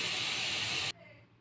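Banana stem tipped into hot oil with onion and chili, a loud burst of hissing sizzle that cuts off abruptly into a quiet low simmer.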